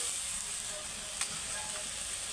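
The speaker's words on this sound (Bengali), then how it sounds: "মশলাটা আমি ভালো করে কষিয়ে নিই।" Masala paste of tomato, onion, ginger and garlic frying in a pan, a faint steady sizzle with one small pop, no voices.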